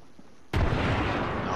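A frag grenade in Apex Legends detonates with one sudden, loud blast that rolls on as a dense rumble.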